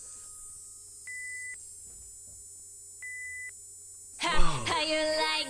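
Electronic beeps in concept teaser music: two short, steady, clean tones about two seconds apart over a quiet hum, followed by a burst of louder, busier music.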